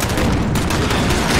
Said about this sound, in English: And I can't even see where they're shooting.